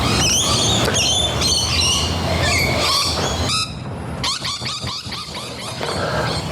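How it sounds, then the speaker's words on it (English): Birds squawk and chirp in a busy, cluttered chorus against steady background noise. A rapid run of short calls follows a brief drop in level partway through. "Let's say hello to the pigeons."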